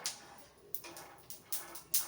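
Peanuts roasting dry in a pan, sharp crackling pops breaking out in short bursts every fraction of a second, close and fairly clear over quiet background.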